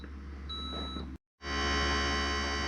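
A steady electronic beep tone sounds over a constant mechanical hum, then cuts out briefly before a louder motor whine resumes.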